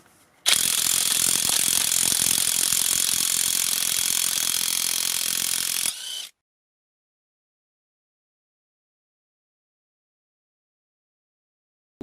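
A brushless cordless 20V Onevan impact wrench, rated at 1800 Nm, runs in one loud, continuous hammering burst of about five seconds. It stops abruptly, and silence follows.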